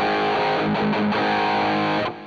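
An electric guitar plays through a Zoom G5n multi-effects pedal on its drive channel, giving a loud, thick distorted tone with a few chord changes before it cuts off at the end.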